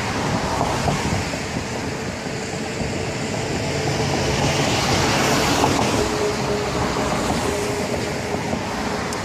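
Florida East Coast Railway freight train 109 rumbling past an overpass on the East Coast Main Line, a loud continuous roar of rolling wagons with steady rail clatter throughout, close by and with no talking.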